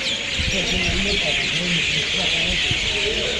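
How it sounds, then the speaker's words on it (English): Busy bird chirping and twittering from trees fills the air on Acland Street, St Kilda, with a steady broad hiss of street noise and traffic underneath. "The birds are having a good time. You can hear them up in the trees."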